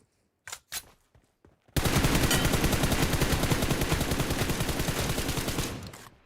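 Hip-fire gunshots in PUBG Mobile: a few scattered single shots, then a long, loud, sustained automatic burst that rattles steadily for about four seconds before cutting off.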